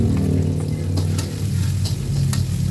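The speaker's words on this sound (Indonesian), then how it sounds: "pertama kita goreng daun bawangnya dulu ya" Spring onions sizzle and crackle in hot oil while being stirred, a loud continuous frying close up, the first step of making Bandung fish siomay.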